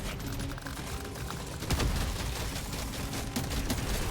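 Shotgun blasts in the survivor game DRG Survivor fire in dense, rapid bursts over a busy wash of game effects, loud and continuous with sharper hits near the middle.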